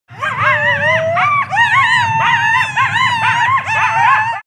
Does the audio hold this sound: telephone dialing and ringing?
no